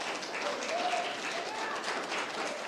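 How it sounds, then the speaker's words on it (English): Audience applause fills a town commission meeting room, steady broadband clapping from a crowd that holds throughout at moderate loudness with no pauses. "Please refraining from the clapping."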